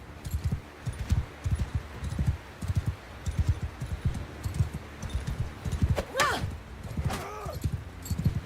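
Horse hooves clip-clop in the medieval battle game Bannerlord 2, a steady run of close, fairly loud thuds with a few higher sharp sounds near the end.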